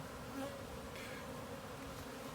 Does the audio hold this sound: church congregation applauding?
no